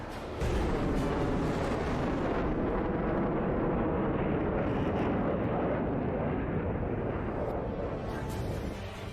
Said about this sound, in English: I need to fix the afterburner sound, or the breaking the sound barrier sounds